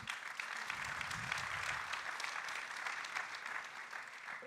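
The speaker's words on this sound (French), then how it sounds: "Vous pouvez l'applaudir également." Audience at a French political forum applauding, a continuous wash of hand clapping from a full room, fairly distant and quiet, without speech.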